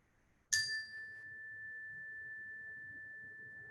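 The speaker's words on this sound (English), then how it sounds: "Just settling into the sound of the bell as it fades." A meditation bell is struck once, a bright clear onset settling into a long, sustained pure tone that lingers quietly over soft background noise.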